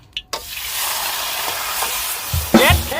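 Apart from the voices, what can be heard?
stir-frying spicy snake curry in a flaming wok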